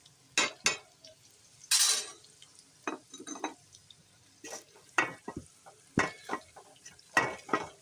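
Arbi and chicken roasting with dry spices in a pot, a spoon scraping and clinking against the metal in irregular strokes over a soft sizzle, close and fairly quiet.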